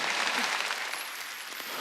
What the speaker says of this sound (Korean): 박수 치는 거 보니까